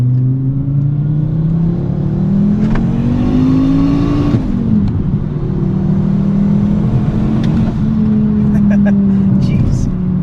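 Turbocharged Volkswagen 2.5 five-cylinder engine revving up close, its pitch climbing steadily to a peak before dropping and then holding at a higher idle, loud and continuous throughout.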